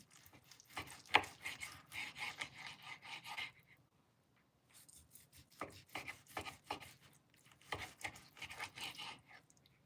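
A long knife slicing through a cooked ribeye steak on a board, making repeated soft, rasping sawing strokes in two bursts separated by a brief pause, close up and fairly quiet.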